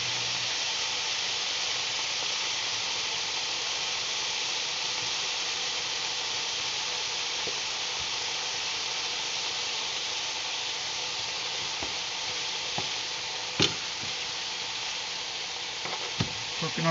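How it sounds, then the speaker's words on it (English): Pork chops fry in a pan with no oil added, giving a steady, even sizzle and hiss that runs throughout, with a few sharp clicks and taps near the end. "Cooking up the pork chops."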